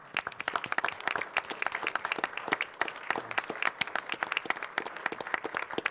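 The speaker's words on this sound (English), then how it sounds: "Do you guys want to stand up and we'll give you a round of applause too?" Audience members at a Cedar Falls city council meeting give scout Troop 44 a round of applause. Dense, lively clapping from a modest indoor crowd keeps going for the whole six seconds.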